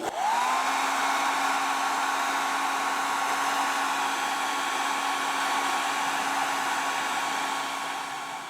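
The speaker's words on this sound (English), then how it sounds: "You can speed your curing time a lot faster, so you can work faster by just blowing off your paint with a hairdryer." A hairdryer on its warm setting blows steadily onto fresh paint on a small studio-scale model, giving a close, constant whir with a high motor whine that barely changes from start to finish.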